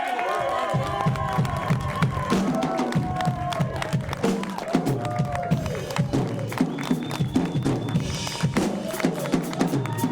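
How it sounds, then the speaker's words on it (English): A studio audience at a late-night comedy show cheers and claps for guests, a dense continuous crowd roar with applause and whoops, loud and sustained throughout with a host's voice over it. "can I have a round of applause for Naj and for Steven?"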